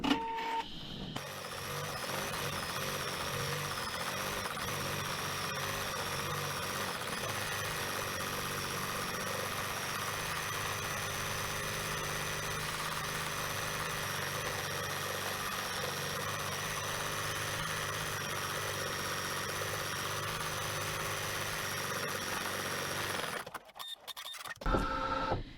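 An embroidery machine stitches a satin fill with a rapid, steady mechanical buzz and whirr, running continuously for over twenty seconds before stopping with a few clunks at the end, no voices heard.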